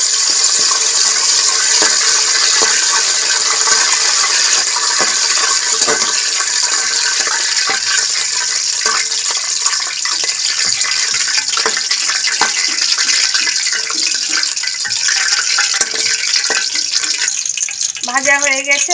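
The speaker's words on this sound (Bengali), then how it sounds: "গরম ঘিয়ের মধ্যে দিয়ে দেবো লং," Whole cloves, cardamom, cinnamon and bay leaf fry in hot ghee for a rice pulao, a steady loud sizzle that runs unbroken throughout, with a brief voice near the end.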